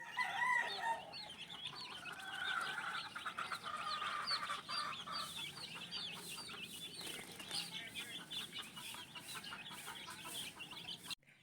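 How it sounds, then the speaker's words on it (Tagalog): Young chicks in a brooder being warmed after a move, a constant chorus of high, rapid peeping and cheeping from many birds nearby, busy and continuous, with no talk. "itong mga sisiw na bagong lipat niya sa brooder ay pinapainitan muna"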